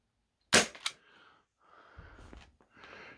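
An ASG Mk23 airsoft pistol fires one sharp, loud shot with a quick follow-up crack, then quiet handling noise.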